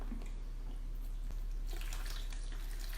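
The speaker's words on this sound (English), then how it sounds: "We're adding this clean water as our meditation." Clean water pours steadily into a container in a quiet indoor space during a children's yoga class, a continuous soft splashing and trickling that stays even throughout with no voices.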